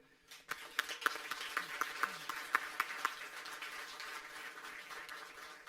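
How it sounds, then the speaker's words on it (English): Scattered claps and sparse applause sound faintly in a hall at an autism festival as the audience honours the autistic community worldwide, with a few louder claps early before thinning into a soft, fading patter. "let's give a round of applause to the autistic community worldwide"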